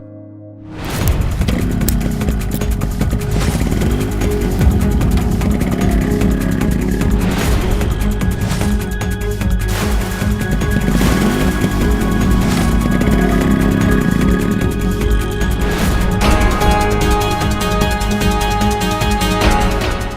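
A motorcycle engine runs loud and close, droning steadily with rising and falling pitch as it approaches.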